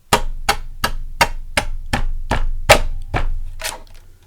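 A paper trimmer cuts in a steady series of about ten sharp, loud chopping thunks, each spaced roughly a third of a second apart. It is close and heard alone.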